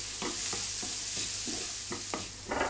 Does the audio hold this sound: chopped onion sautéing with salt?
yes